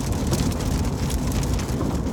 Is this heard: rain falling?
yes